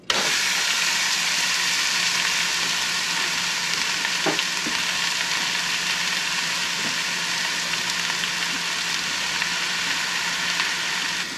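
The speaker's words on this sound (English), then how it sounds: "First thing we're gonna do is sear our roast here." A chuck roast sears in a hot pan for birria tacos, giving a loud, steady sizzle and crackle that holds evenly throughout with a few brief clicks and no voices.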